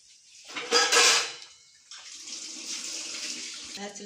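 Water splashes and trickles in a loud burst into ragi flour dough for pathiri, then continues as a softer pouring and mixing sound with faint clinks.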